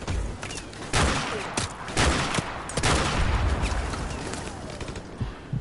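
Rapid bursts of video game gunfire in a chaotic firefight, with repeated sharp shots and heavier booms over a dense, loud battle din, plus brief bits of voice.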